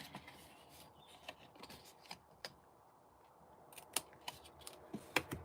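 Paper piece being snipped off with scissors for a card-craft project, with soft, quiet cuts and a few sharper snips near the end over faint rustling.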